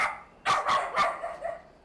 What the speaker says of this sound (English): Almost every house you walk by has at least one dog,